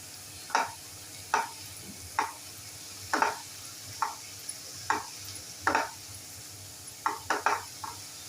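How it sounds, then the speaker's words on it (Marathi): A spatula scraping and stirring sautéing onions and finely chopped tomatoes in a pan for egg masala, about a dozen separate strokes spaced roughly a second apart over a low sizzle, close and without speech. "आता इथे कांदा थोडासा भाजला गेला की आपण घालूया दोन बारीक चिरलेले टोमॅटो ते सुद्धा छान परतून घेऊया"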